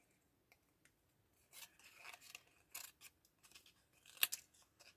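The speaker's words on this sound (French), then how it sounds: "je vais prendre mon ciseau à détourer" Small detouring scissors snip a paper elephant shape from slightly damp paper, close and quiet, in irregular bursts of short crisp cuts and rustles.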